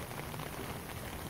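Rain pours steadily onto a residential street during a heavy downpour, a soft, even hiss of countless drops hitting pavement and running water, fairly faint and continuous throughout.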